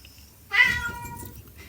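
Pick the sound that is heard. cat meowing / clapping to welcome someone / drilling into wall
cat meowing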